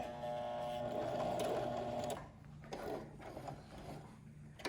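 A sewing machine stitches fabric for a sheet mask in a fast, steady mechanical whir for about two seconds, then stops, followed by quieter handling clicks and rustles of the cloth, close by.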